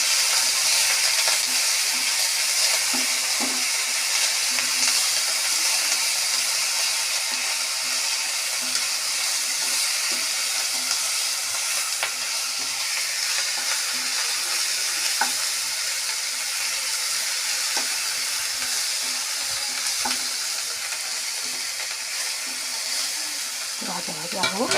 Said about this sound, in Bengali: এটাও ভাজা ভাজা হয়ে যাবে